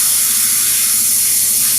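An airbrush sprays thinned high-flow white acrylic paint in a steady, loud, continuous hiss with no pauses, heard close up and alone.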